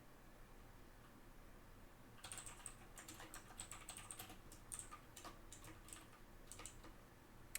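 Fingers tap on a computer keyboard in quick, uneven bursts of clicks after a quiet start, close by and faint, with no talking over them.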